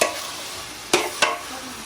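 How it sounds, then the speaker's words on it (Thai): Spicy Thai pork khua kling stir-fried dry in a hot pan gives a steady close sizzle, broken by two quick scraping strokes of the spatula through the meat. No voices. "ต้องผัดแบบแห้งๆ"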